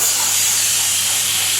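Gas bleeds from a beer fermenting tank in a brewery, a loud, continuous, close hiss with no breaks.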